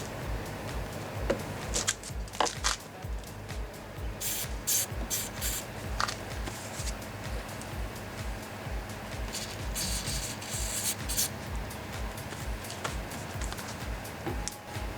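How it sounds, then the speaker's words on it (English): Short bursts of contact cleaner aerosol spraying onto a Cadillac Escalade side mirror's contacts hiss intermittently over a background of rubbing and handling noises, close and moderately loud. "spray some contact cleaner on all the contacts"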